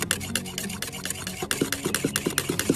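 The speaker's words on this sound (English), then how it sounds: "Give that a stir up." A spoon stirring instant coffee in a cup at a campfire, quick rhythmic scraping and clinking strokes, about a dozen in a row, close and clear.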